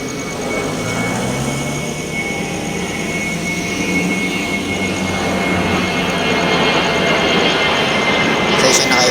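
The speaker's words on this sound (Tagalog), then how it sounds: "May aeroplano na naman dumaan dito." An airplane passes overhead at the Manila Film Center, a broad roaring engine drone that slowly grows louder across the clip against the ambient noise.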